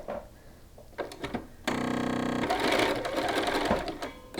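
A home sewing machine stitches a shirt cuff onto a sleeve, starting with a short sharp burst of steady buzzing and then continuing in a looser, uneven run mixed with handling noise.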